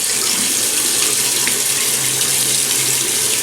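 A bathroom tap runs in a steady, loud hiss of water for face wetting before a shave, the flow close by and unbroken throughout.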